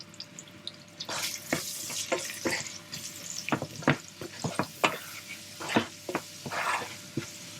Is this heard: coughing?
no